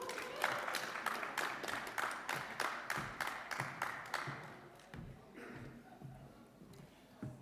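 Audience applause in a room for a speaker at a live event, a steady patter of clapping hands that thins out and fades toward the end.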